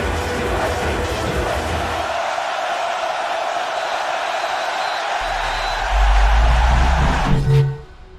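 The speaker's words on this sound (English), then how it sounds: "the low rumble of the crowd before kickoff" A large college football stadium crowd rumbles and roars continuously before kickoff, a dense wash of many voices that swells louder near the end before cutting off.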